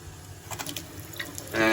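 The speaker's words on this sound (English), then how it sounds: "now he's got water coming out of this nice powder room bathroom overlooking the ocean" Water from a repaired bathroom faucet with a broken-through aerator runs into a powder room sink, starting with faint trickles and splashes, then surging into a loud steady flow at the end.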